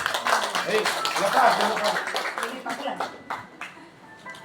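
A small audience at a retirement farewell gathering gives brief, scattered clapping that thins out, with people speaking over it.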